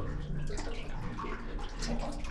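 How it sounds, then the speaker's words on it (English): Ocean waves surge and rumble deep inside a sea cave, making a dense, steady washing roar that fills the space. It is continuous and close, with no talking. "It's like rumbling as the waves go back there."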